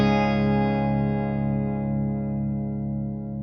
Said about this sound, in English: Now let's try the tremolo.